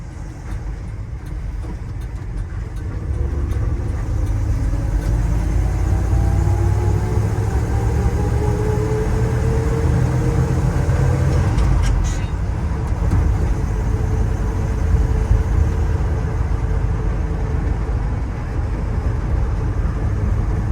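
A 1973 Ford F-350 custom fire truck's engine rumbles steadily while driving, with rising and falling gear tones as it accelerates toward a highway merge, loud and continuous throughout.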